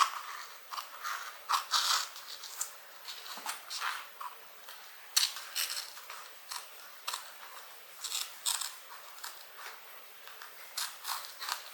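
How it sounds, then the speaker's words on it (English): Close, crisp scissor snips trim the edge off a piece of leather with adhesive lining, repeating in a steady rhythm of short cuts with no talking. "you can just cut this edge off"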